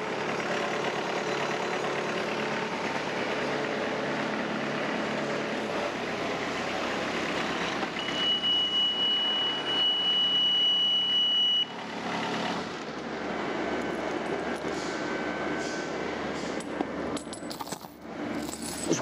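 A Harper ATM72LC slope mower runs steadily and loudly throughout, a continuous broadband engine drone with a thin whine partway through and no talking.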